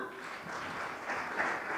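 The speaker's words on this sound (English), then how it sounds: "Let's clap for her." Audience applause at a Kenyan political education launch event, a soft, continuous wash of many people clapping, fairly distant and even in level.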